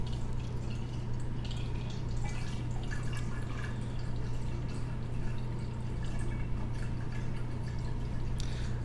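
Water poured slowly into a container up to the 1000 mark while making liquid tissue culture media, a continuous dripping, trickling stream heard alone over a steady low hum.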